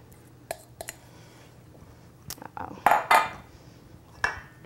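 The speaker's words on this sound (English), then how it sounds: "And then you just stir" Cheese being stirred into a hot dish, heard as a few scattered metal spoon clinks and scrapes against the dish with soft squishy stirring between them, close by in a quiet room.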